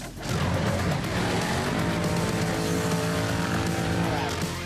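Quad bikes racing on a muddy cross-country championship track, a loud continuous engine roar that rises slightly in pitch, with a voice faintly present underneath.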